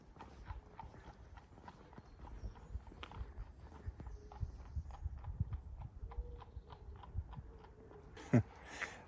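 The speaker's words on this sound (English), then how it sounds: "See a horsey in the background there?" A horse walks along a road in the English countryside, its hooves clip-clopping in a steady, even rhythm at moderate distance, with a brief louder knock near the end and no talking.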